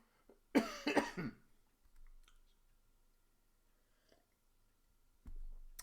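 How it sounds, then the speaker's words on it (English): A short burst of two or three harsh coughs close to the microphone, followed by near silence with faint clicks. "My cough is so annoying."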